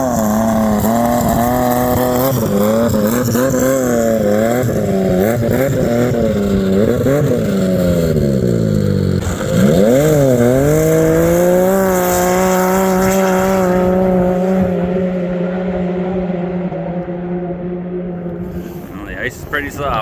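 A turbocharged Yamaha Apex snowmobile makes a speed run on a frozen lake, its engine droning loud and close with rising and falling revs before fading toward silence near the end.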